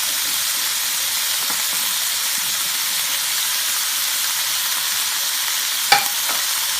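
Beef sizzling in a hot pan for orange beef stir fry, a steady loud hiss of frying that runs throughout, with a brief clatter near the end.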